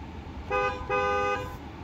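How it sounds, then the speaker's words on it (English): A 2023 Honda Accord Touring Hybrid's horn honks twice, a short blast followed by a longer one, loud and close, with quiet background between. "Let's honk this horn so you guys can hear it."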